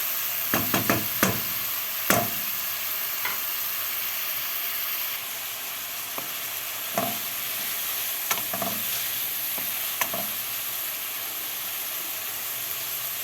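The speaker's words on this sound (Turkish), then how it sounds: "Soğanların biraz pembeleşinceye kadar kavrulacak." Onions and garlic sauté in a pan under a constant loud sizzle, broken by scattered scraping knocks of a spoon stirring them, near and with no voices.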